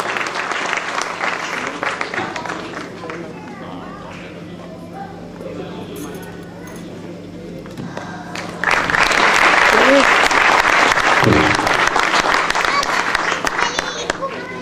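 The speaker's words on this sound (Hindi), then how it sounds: "आज इसी मुस्कान को हम जोरदार एक बार तालियों से स्वागत करते हैं" Loud applause from an audience at an awards ceremony welcoming an honoree, with a person talking over it at first before the clapping swells fuller and louder.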